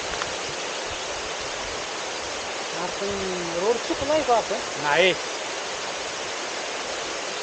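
Water from a stream near Kelwali waterfall flows in a constant soft rush, while people talk briefly over it midway.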